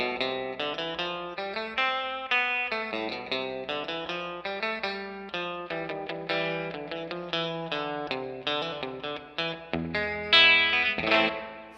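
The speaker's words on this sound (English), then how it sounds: "their take on like the outboard reverb tanks that like the surf guitar players would use" Electric guitar played through a Fender Tre-Verb pedal emulating an outboard surf-style spring reverb tank, a steady run of picked notes and chords with a splashy, echoing tail, loud and alone throughout.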